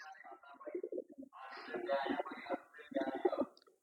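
Pigeons coo in low, throaty bursts, several overlapping calls rising and falling close by, with brief pauses between phrases.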